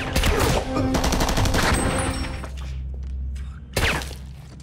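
Gunfire erupts in a film shootout, a rapid burst of loud close shots with a shattering crack, followed by a low rumble and one more sharp blast near the end.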